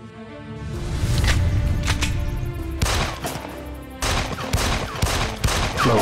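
Gunfire erupts in a dramatic action scene as bursts of sharp shots crack over a music score, loud with several rapid volleys.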